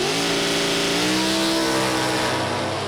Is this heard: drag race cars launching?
yes